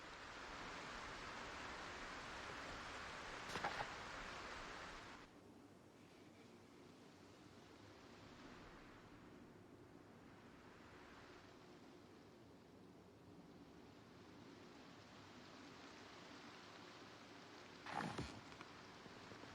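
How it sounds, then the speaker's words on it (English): Torrential rain pours down in the Project Zomboid video game: a dense, steady hiss that is loud for the first few seconds, then settles into a softer continuous downpour, broken by a couple of brief sharp clicks. "Still have a bit of a massive torrential downpour."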